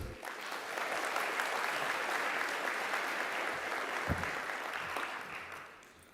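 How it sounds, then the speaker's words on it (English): A keynote audience in Anaheim gives Julia a round of applause, a dense, even wash of many clapping hands that holds steady for several seconds and then tapers off. "Let's give a round of applause to Julia."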